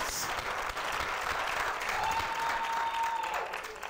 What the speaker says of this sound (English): Give yourselves a round of applause for being such an awesome audience.